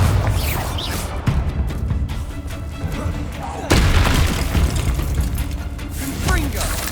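Bombarda spell explosions in Hogwarts Legacy: two sharp booming blasts several seconds apart, the second louder, over steady low rumbling game noise and intermittent voices.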